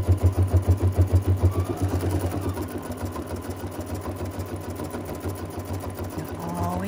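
An embroidery machine stitches around a sanitizer bottle holder held in the hoop, giving a close, steady rapid needle rattle that is strongest at the start and keeps running alone for the whole stretch.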